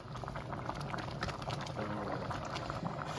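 A dish simmers uncovered in a pot on the stove, giving a continuous soft bubbling and popping, close and moderately quiet, with no talk.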